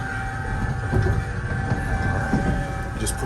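Continuous low rumble and rattling of an overnight sleeper train running from Bangkok to Chiang Mai, heard from inside a carriage, steady and moderately loud with no talk over it.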